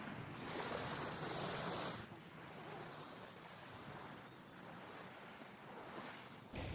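Clear sea water washes onto a quiet beach shore, soft surf swelling and receding in faint, rolling surges with some wind noise and no talking.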